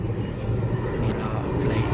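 An airplane passes over a cricket tournament ground, a steady loud engine roar with broadband rumble holding throughout, no voices.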